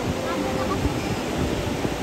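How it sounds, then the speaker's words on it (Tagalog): Strong sea waves at Baler, Aurora surge in a continuous, moderately loud rumbling wash with wind noise, while a voice is faintly present underneath. "Nakakatakot yung alon,"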